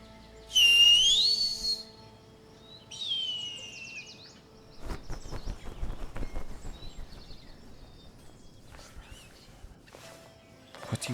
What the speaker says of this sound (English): Now we've got a whistle.